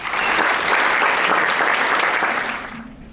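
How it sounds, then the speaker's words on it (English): Audience applause for a student at a university presidential installation ceremony, a dense loud round of many hands clapping that holds steady and then fades out near the end. "So if we can give Alexis a round of applause."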